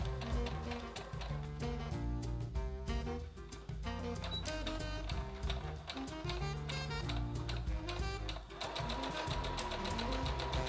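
Sewing machine stitching the side seams of lined pants, running in a loud, continuous, close mechanical whir with rapid needle ticking, briefly slowing before picking back up.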